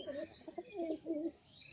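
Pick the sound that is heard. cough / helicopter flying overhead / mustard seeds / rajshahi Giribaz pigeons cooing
rajshahi Giribaz pigeons cooing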